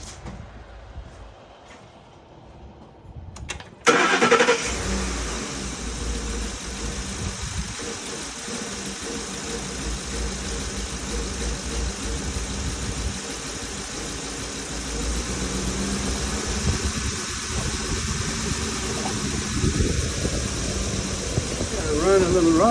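A Ford car engine turns over and catches after a few quiet seconds, then settles into a steady, somewhat rough close idle that runs on without a break, with a faint hum underneath.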